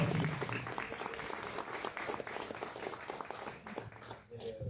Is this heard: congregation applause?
yes